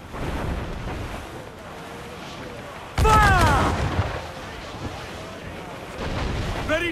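Ship cannons boom in a naval battle in Assassin's Creed 4 Black Flag: one heavy, close blast hits midway over a constant backdrop of wind and ocean surf, with faint rumbles before and after.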